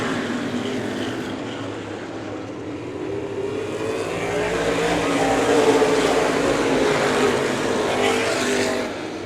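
Open wheel modified race cars circling Showtime Speedway in Florida, a dense, roaring engine drone that swells louder midway as the pack passes, heard from a distance without talk.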